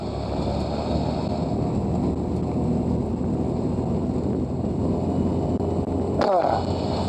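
Light aircraft piston engine held at steady high power during a magneto check at a fly-in, a loud continuous drone with wind buffeting the microphone and a brief burst of noise near the end.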